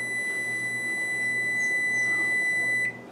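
An oven timer gives a long, steady electronic tone while being set, holding clear and close for nearly three seconds before cutting off, with a quiet room hum underneath and no talking.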